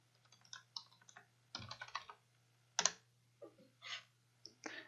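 Fingers type a password on a computer keyboard, irregular soft clicks and short bursts of keystrokes with brief pauses, quiet and close, no talking over them.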